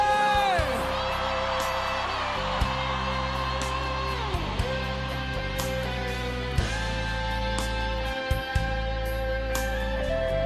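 Inside a church, a congregation shouts and cheers loudly together in a dense, sustained roar of voices, with a few sharper whoops breaking through.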